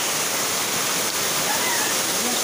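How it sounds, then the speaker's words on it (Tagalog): Strong floodwater rushes past in a loud, continuous roar, close and steady throughout. "Ang lakas ng baha na to."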